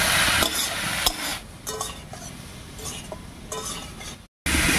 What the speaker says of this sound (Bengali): আর এই অবস্থায় কুমড়োগুলোকে একটু ভাজা ভাজা করে নেব।